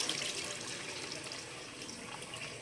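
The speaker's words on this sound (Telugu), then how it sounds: "మనకి ముక్కలు మునిగాయని వాటర్ పోసుకోవాలండి" Water poured into a pot of tamarind curry with vegetable pieces while cooking: a steady, soft splashing pour runs continuously, fairly quiet and close, with no talking.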